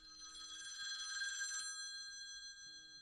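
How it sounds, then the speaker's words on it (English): A loud electronic phone ringtone trills steadily for about a second and a half, then cuts off, leaving quiet background hum. "my ringtone is super loud."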